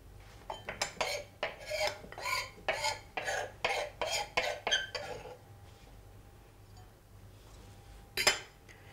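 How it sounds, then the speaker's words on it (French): A spoon stirs basil into ricotta in a bowl, giving a run of rhythmic scraping clinks close by for about five seconds, then a pause and one louder knock near the end. "On va mélanger ce basilic avec la ricotta."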